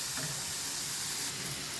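Chicken kofta mixture frying in oil, a steady close sizzle and hiss that holds at an even level without pause.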